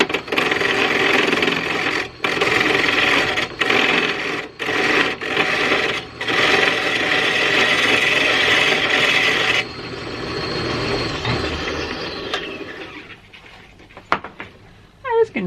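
A gouge rasps steadily through white pine in close, dense scraping strokes with brief pauses, then quieter intermittent scraping toward the end.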